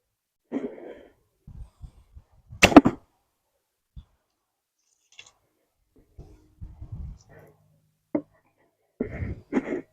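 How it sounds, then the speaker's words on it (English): Arrows shot from a 55 lb Mujingung traditional bow thump into an archery target boss during practice: a few sharp, separate impacts spread across the stretch, with soft breathing and clicks in between. "There's a satisfying thump coming from the boss as they hit."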